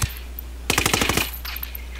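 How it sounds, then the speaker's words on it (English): A rapid burst of automatic gunfire in the video game Ghost Recon Wildlands, about ten quick close shots in under a second over a steady low background hum. "It's terrible shooting for Rawlings."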